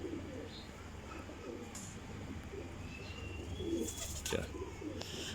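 Domestic pigeons kept by a breeder, with breeding pairs in a loft, cooing softly in a low rhythmic murmur over steady background hum, with a few faint chirps and light rustling.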